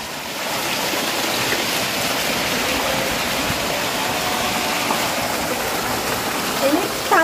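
Floodwater rushing like a river through a garden and up to a swimming pool, a steady, loud broadband roar of flowing water that runs throughout, with faint voices near the end.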